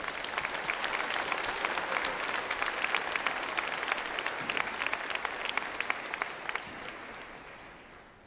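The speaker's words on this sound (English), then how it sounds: "With a warm round of applause, ladies and gentlemen" A crowd at the CITES COP17 conference opening ceremony applauds steadily with dense clapping that holds for several seconds, then gradually fades away.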